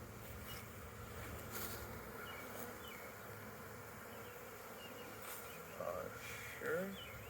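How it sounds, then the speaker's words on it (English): Honeybees bearding at the front of a beehive on an urban farm, a continuous close buzzing drone with individual bees passing nearby. "you can see the bees are bearding up front"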